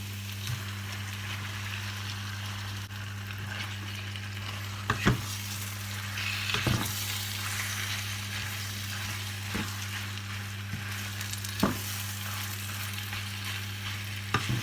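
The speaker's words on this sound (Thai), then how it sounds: "แกงแบบเผ็ดๆเลยจ้ะใส่หมูสามชั้นลงไป" Pork belly fries in a spicy curry in a wok, a steady loud sizzle with a constant low hum underneath and occasional sharp clanks of stirring.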